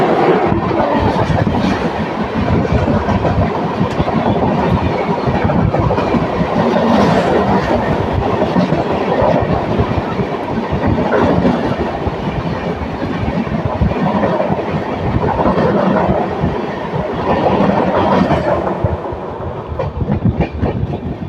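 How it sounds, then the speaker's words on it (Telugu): Another train rushes past alongside an LHB express on the Visakhapatnam–Mahabubnagar run, heard from aboard as a loud, dense, continuous rumble with rapid wheel clatter lasting the whole stretch, no voices over it. "ఏదో ట్రైన్ మనని క్రాస్ చేసుకుంటూ వెళ్ళబోతుంది."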